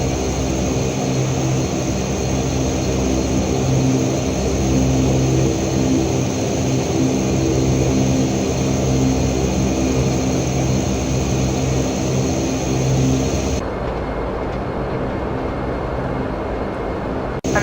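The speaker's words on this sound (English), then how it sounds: "And there we go, we are now taxiing up to the gate." A simulated Dash 8 Q400 turboprop in FSX hums and whines steadily while taxiing, its propeller drone constant and close, then the high whine cuts off near the end; no speech.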